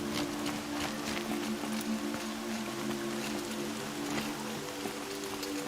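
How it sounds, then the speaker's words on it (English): Steady rain falls in the video game Horizon Zero Dawn, a constant soft hiss of drops on surfaces with a low tonal hum underneath, no talk over it. "Rain's not so bad."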